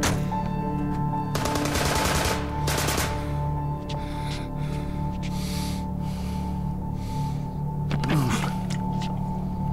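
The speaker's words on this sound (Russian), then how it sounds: "Не стрелять!" Bursts of machine gun fire in a TV crime drama shootout, two sharp rapid volleys early on and another near the end, loud and close over a humming background.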